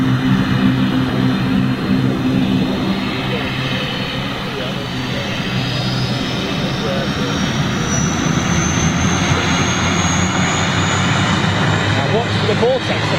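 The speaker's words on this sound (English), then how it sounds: "As soon as those speed brakes drop, that will signify the takeoff run. There she goes." At an air show, a propeller aircraft starts its takeoff run, its loud, steady engine drone and prop roar rising in pitch as it accelerates, with an announcer talking over it.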